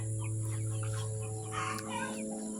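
Young hens (pullets) cluck and murmur softly in a kennel over a steady mechanical hum, with a few brief squawks mixed in.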